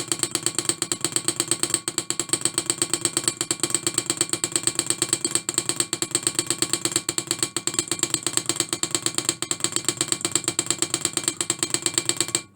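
A small Stirling engine runs fast, its displacer and power piston clattering in a rapid, steady mechanical ticking like a ratchet. The sound is close and continuous with no voices.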